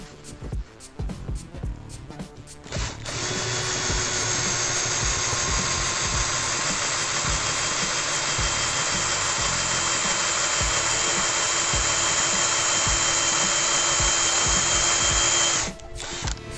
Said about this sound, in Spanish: Y ahora sí ponemos la broca inventada.